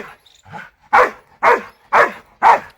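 A village dog gives a couple of soft yips, then four loud, evenly spaced barks close by, with clear silences between them.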